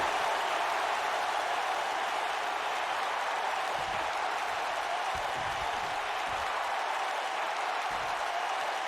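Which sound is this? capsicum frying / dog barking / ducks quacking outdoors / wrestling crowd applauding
wrestling crowd applauding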